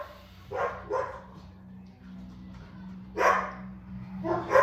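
Dog barking indoors, several short sharp barks spaced irregularly over a low steady hum, fairly close and moderately loud.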